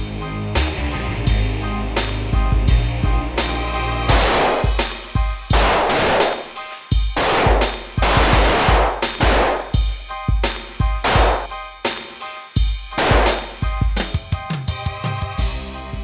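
Gunfire at a practical shooting range: loud, close shots fired in quick strings of several rounds with brief pauses between groups, each a sharp crack with a short echoing tail, and no talk over them.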